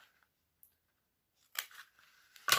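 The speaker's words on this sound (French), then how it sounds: "je vais prendre le gros ciseau, ça ira plus vite." Scissors snipping the corners off napkin-paper pages being folded into envelopes: a faint single snip, then a short burst of cutting and a final louder crisp cut, close and quiet, with no talk.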